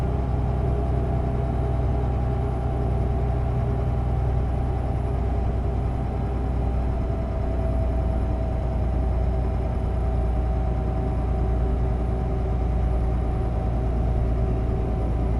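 Scania Super 560R truck engine in Brazilian Truck Simulator pulling up a steep hill, a steady, loud low drone with constant tonal hum, unbroken for the whole stretch with no talk.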